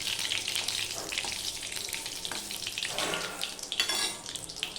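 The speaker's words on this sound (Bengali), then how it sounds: "এখানে দেখো পাঁচ ফোড়নটা ভালো করে হতে হবে গন্ধ বেরোবে ততক্ষণ পর্যন্ত হতে দিতে হবে" Panch phoron spices frying in hot oil, a steady close crackling sizzle with small pops scattered throughout, continuous and fairly even.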